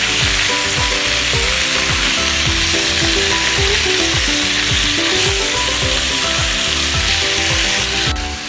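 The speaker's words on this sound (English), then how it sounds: "You see how quickly the beef has been browning?" Beef browning with sugar and water in a hot pan, a loud, steady close sizzle and crackle with scraping stirring strokes throughout, no voices.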